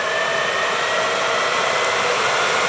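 A J44 jet engine starter spins with a modified igniter, a steady loud broadband whooshing whine that holds constant throughout, close and alone.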